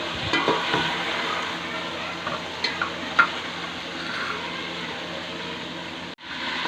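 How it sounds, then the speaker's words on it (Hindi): Chicken fries in a pan until light brown for a chicken and potato curry, giving a steady broad sizzle with a few brief clinks and stirring sounds before a sudden short dropout near the end. "ये देखें दोस्तों, हमारी चिकन फ्राई हो गई है।"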